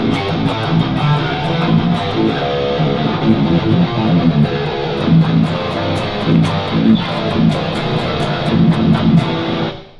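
A heavily distorted seven-string electric guitar tuned to drop A chugs out low, rhythmic riffs with palm-muted attacks, loud and dense throughout before cutting off at the end.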